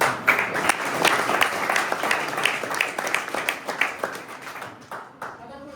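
An audience applauds at a college student achievement ceremony, a dense burst of many hands clapping in an indoor hall, steady and close, then thinning and fading near the end.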